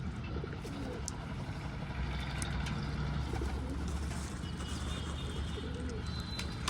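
Pet pigeons coo nearby in a low, throaty, repeating murmur, with scattered chirps and light clatter around them.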